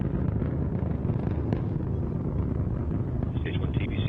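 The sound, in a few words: Antares rocket engines roaring during ascent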